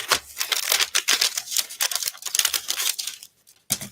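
Tissue paper is torn and crinkled up close, with bursts of sharp rustling and ripping separated by short pauses and a final crackle after a brief silence.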